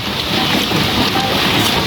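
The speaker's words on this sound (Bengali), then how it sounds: "আমাদের বাড়িতে প্রচুর পরিমাণ বৃষ্টি এত পরিমাণ বৃষ্টি" Heavy rain pours down outside a home in a steady, loud, dense roar of broadband noise that holds without a break.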